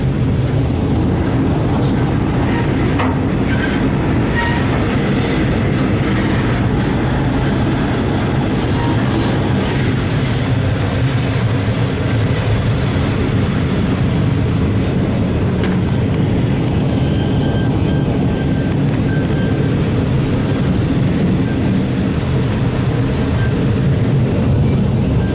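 Swan Hill N set passenger train heard from on board, a steady loud rumble of wheels on rails with constant low roar and faint clatter throughout, no voices.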